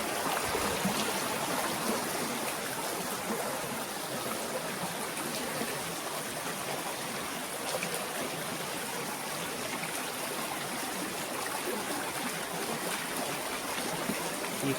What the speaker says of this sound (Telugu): ఈ కొండ రాళ్ళ మధ్యలోంచి నీరు